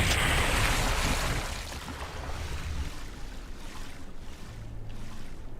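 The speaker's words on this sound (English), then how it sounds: "Why am I in the water?" Water effects in the DOOM 64 video game, a rushing, splashing wash that starts loud and then settles into a quieter, steady lapping and swirling ambience, with no one speaking.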